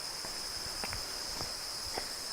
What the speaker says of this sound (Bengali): চারিদিকে শুধু ঝিঝি পোকার আওয়াজ